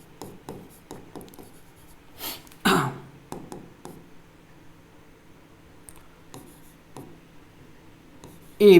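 Chalk or marker scratches out a general chemistry reaction on a board in short, dry strokes and taps, close and distinct, with a louder rubbing stretch near the middle and quiet pauses between strokes.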